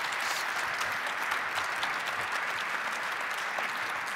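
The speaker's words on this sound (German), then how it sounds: "vielleicht noch einen kleinen Applaus für die Diskutanten" At a research summit on the sustainable energy transition, a hall audience gives panel discussants a sustained round of applause, thick and even, many hands clapping continuously at steady loudness.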